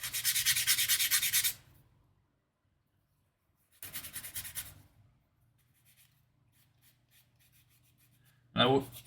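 A painted Moomin model piece is sanded by hand in two short bursts of rapid scratchy rubbing strokes, separated by quiet pauses, with a final brief scrape.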